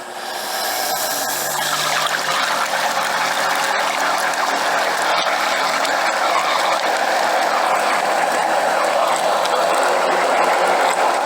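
Blender mixing coconut water, rice bran and sugar, a loud steady whirring grind with liquid churning that runs unbroken throughout.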